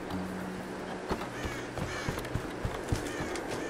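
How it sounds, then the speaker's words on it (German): A bird calls out in the Tomb Raider video game, harsh crow-like caws over a windy game backdrop, followed by a run of soft rhythmic thuds that sound like footsteps. "Hier ist noch irgendwo ein Vogel"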